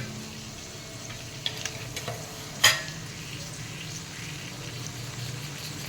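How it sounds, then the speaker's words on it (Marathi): Paneer being stirred into sautéed vegetables in a pan, a soft continuous sizzle with faint scraping and one sharp utensil clink midway, close and steady with no talking. "हे हलक्या हाताने मिक्स करून घेऊया"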